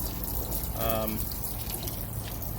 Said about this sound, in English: we have overflow out of the auxiliary tank